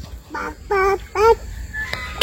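A voice imitates a duck quacking in a village setting, giving three short nasal quacks in quick succession, loud and close, followed by a brief higher call.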